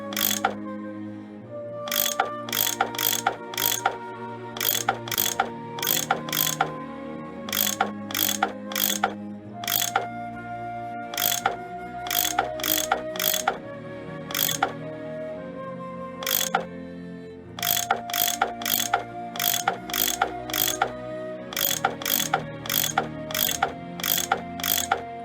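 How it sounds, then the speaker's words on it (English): Bolts being unscrewed with a tool in the Nancy Drew game Last Train to Blue Moon Canyon, a long series of crisp metallic ratcheting clicks in rapid bursts with brief pauses, over a low humming musical background, with no speech. "I bet that's what you use to unscrew these bolts."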